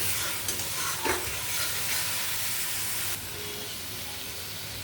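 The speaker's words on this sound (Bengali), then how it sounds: "আদা পেঁয়াজ রসুনের পেস্টটা আমি খুব ভালো করে ভেজে নেব।" Ginger, onion and garlic paste frying in a pan gives a dense, steady hiss with occasional stirring scrapes, then drops slightly quieter partway through but keeps sizzling.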